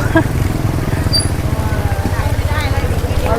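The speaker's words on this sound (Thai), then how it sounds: "สภาพบรรยากาศตอนฝนตกค่ะ" Rain falls at an open-air Thai-Lao border market in Bueng Kan, a dense steady patter on surfaces close by, with people talking faintly in the background.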